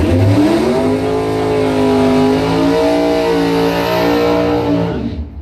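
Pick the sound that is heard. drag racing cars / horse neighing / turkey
drag racing cars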